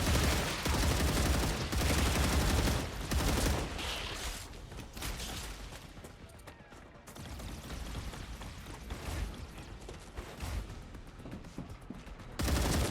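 Automated turrets fire in the StarRupture video game, a dense loud stream of rapid gunfire that eases to a steadier, slightly quieter barrage midway, then swells again near the end.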